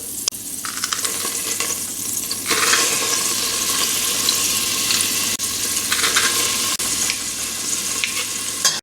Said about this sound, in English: Our heavy base saucepan here with a good tablespoon of olive oil. I'm just going to put in about 6 garlic cloves.